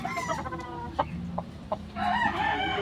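Gamecock roosters cluck in short bursts over a steady hum of background noise, with a louder stretch of squawking toward the end; nearby and moderately loud, no speech.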